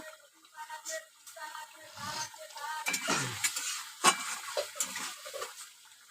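Pangas fish cooks in a pan, a spoon or spatula stirring and scraping in quick irregular strokes over a soft sizzle, close and moderately loud with brief clinks of metal.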